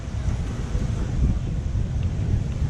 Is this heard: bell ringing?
no